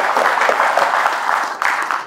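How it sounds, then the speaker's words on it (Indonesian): Audience applause at a public speaking workshop fills the short stretch, a dense, loud patter of many hands clapping that continues evenly and tapers slightly at the end. "Berikan tepuk tangan untuk sahabat kita."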